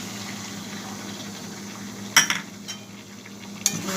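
Soy sauce chicken being stirred in a pan with a little water, giving a low steady simmer under a few sharp utensil scrapes near the middle and end.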